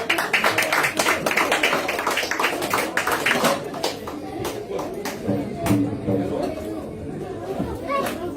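Applause and chatter from an audience of children and adults at a silver jubilee celebration, starting as loud clapping with kids' voices and fading into scattered claps and murmur.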